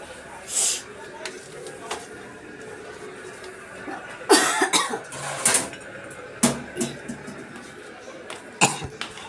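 Several short, sharp coughs scattered across the clip, close and fairly loud, with quiet room noise between them.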